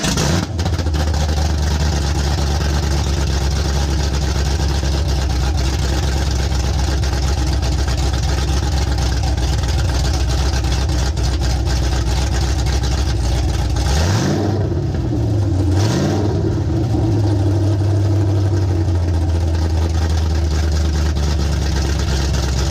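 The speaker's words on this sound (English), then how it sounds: "start her up and let you guys hear that thing idle with no exhaust whatsoever" A Camaro ZL1 engine idles with no exhaust fitted, extremely loud, a raw rumbling drone that runs steadily throughout, with a couple of short blips near the end where the note dips and swells.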